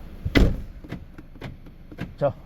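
A Kia K5 fuel door lock actuator, on a fuel door that won't open, clicking and clunking several times in an irregular series of short, sharp mechanical knocks, close by, the first one loudest.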